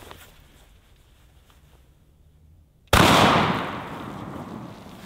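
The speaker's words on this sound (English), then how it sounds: "This is the Wolf PowerShock 1 1/8 ounce rifled slug." A single loud, sharp blast of a Wolf PowerShock 1 1/8 ounce rifled slug fired from a double-barrel sawed-off shotgun, cracking suddenly out of quiet outdoor ambience and then fading into a long, decaying echo.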